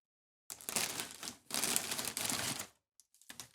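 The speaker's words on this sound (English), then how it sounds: "Opening up such a nice big present." Crinkly plastic packaging being torn and pulled open around a big parcel, in two long, loud bursts of rustling with a softer scrunch at the end, up close and with no talk.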